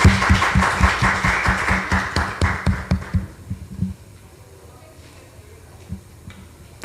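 An audience at an Innovation Week conference in Dar es Salaam applauds a speaker onto the stage with steady, rhythmic group clapping that is loud and close, then stops abruptly into quiet room tone.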